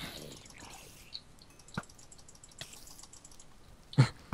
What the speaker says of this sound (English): Oh, it's the ice melting.